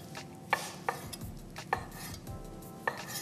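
Knife dicing Newski smoked ham on a board, a handful of sharp, separate chops spaced irregularly and close by, over a soft background of kitchen clatter.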